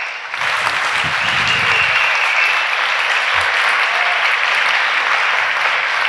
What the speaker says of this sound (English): take another round of applause